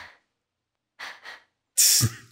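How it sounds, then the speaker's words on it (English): A character sniffs in Baldur's Gate 1 Enhanced Edition: a couple of short nasal inhales followed by a sharper, louder snort-like sniff, all clear and close with no talking. "Sniffing."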